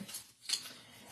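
Scissors snipping into a small plastic elf figure from Dollar Tree, a brief quiet cut or two with light handling noise around them.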